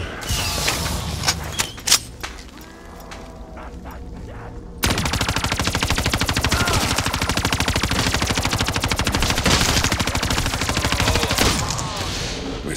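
Rapid automatic gunfire in a video game, with a few sparse shots first, then a sustained loud barrage of machine-gun fire filling the rest of the clip.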